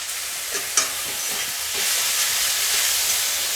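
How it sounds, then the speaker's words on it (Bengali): Leafy greens (broto shaak) fry in a pan on a gas stove and are stirred, giving a continuous loud sizzle with a few scraping strokes of the spatula early on and no voices. "শাকটাকে এখন গ্যাসের আঁচটাকে একটু কমিয়ে দিয়ে এরকম নাড়াচাড়া করে বা একটু ঢেকে ঢেকে দিয়ে ভাজলে"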